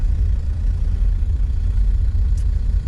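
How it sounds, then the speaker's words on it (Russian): A Mercedes-Benz W123 sedan's diesel engine running, a loud, steady low-pitched rumble and clatter that holds evenly throughout without revving up or down. "Да, звук от дизеля, конечно, реально сильный."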